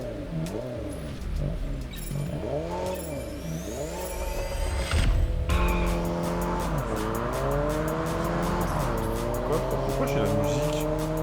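Race car in the Test Drive Unlimited Solar Crown video game on a time trial, its engine revving hard up and down through gear changes, with tires squealing and skidding through corners, loud and continuous throughout.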